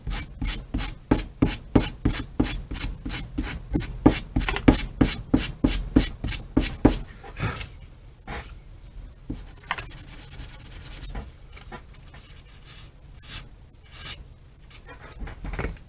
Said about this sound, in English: sand a nice sharp taper, or not a sharp taper, a shallow taper, onto the rear so it fares into the wing nicely